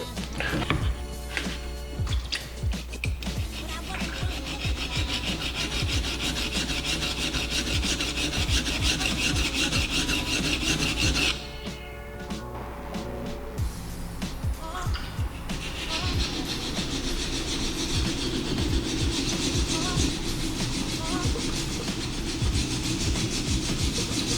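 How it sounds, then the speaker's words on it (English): A kitchen knife, a Kurosaki Aogomi Super Fujin 120 mm petty, is reprofiled on a coarse 140 grit diamond plate, giving a steady, close rasping scrape of repeated strokes that pauses briefly midway and then resumes. "So I'm gonna use my Automa diamond plate, 140 grit."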